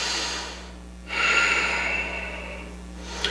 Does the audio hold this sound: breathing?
yes